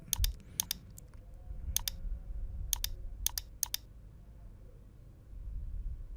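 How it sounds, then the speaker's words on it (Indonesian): Keys on a computer keyboard are tapped in quick pairs of sharp clicks during a Photoshop editing session, with a few isolated clicks between the pairs over a quiet background hum. "Di sini saya tekan pada keyboard Ctrl D untuk menghilangkan seleksi."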